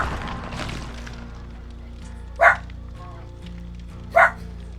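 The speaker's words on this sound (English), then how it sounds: "Dog's going batshit crazy" A dog barks in two sharp, loud single bursts a couple of seconds apart over a low hum and a faint background voice.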